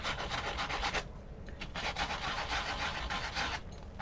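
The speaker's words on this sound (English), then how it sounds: "I can sand off a little bit of the color to make it show that two-tone." Gentle sanding of cardstock to expose its core color, heard as close, steady back-and-forth rubbing strokes with brief pauses.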